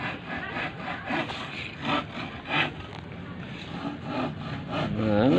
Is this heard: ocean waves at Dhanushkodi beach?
no